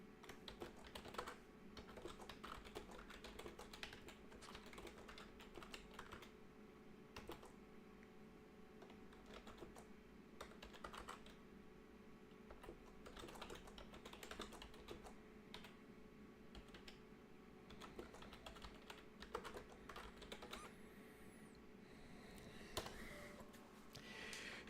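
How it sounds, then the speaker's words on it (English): Rapid, uneven keyboard typing runs steadily throughout, close and moderately loud, clicking over a faint background hum from a Minecraft play session. "Yeah, don't make fun of my typing."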